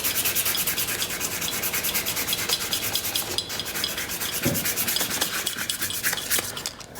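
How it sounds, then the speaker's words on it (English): Very fine sandpaper rubs back and forth over a wooden spoon, close and continuous with quick rhythmic scratchy strokes, a couple of brief pauses and no talking. "now I'll clean that up with a little bit of this very fine sandpaper."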